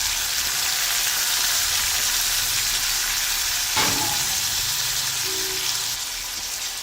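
Chopped onion, green chili and tomato sizzle steadily in a hot pan, an even crackling fry close by with a brief stir or clink partway through, no talking.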